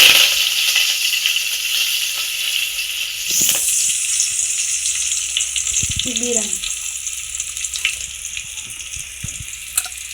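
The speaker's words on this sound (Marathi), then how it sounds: "आपण तेलात लसूण फोडणीला घालूया आणि कढीपत्ता घा टाकूया" Garlic and curry leaves fry in oil with a steady, close sizzle throughout, with occasional clinks and scrapes of a utensil against the pan.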